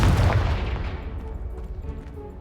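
A Confringo spell goes off in the Hogwarts Legacy video game as a single booming explosive burst that decays into a rumbling tail over a couple of seconds.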